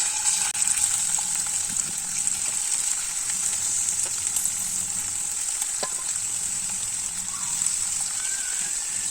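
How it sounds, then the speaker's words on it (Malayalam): Small prawns frying in hot oil for a prawn pickle, a continuous loud crackling sizzle that holds steady throughout with occasional sharper pops. "എണ്ണ ചൂടായിട്ടുണ്ട് ഇനി നമുക്ക് കൊഞ്ചം ഇട്ട് കൊടുക്കാം"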